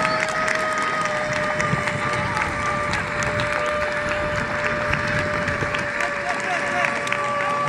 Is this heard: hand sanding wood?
no